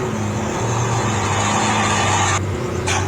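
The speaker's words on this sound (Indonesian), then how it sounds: "lanjut untuk suara kick off atau lepas gas tarikan sedang kurang lebih seperti ini cuy." A Hino 500 truck diesel engine eases off the throttle after a medium acceleration, a loud, close, continuous low rumble with a steady drone and brief hissy releases near the end.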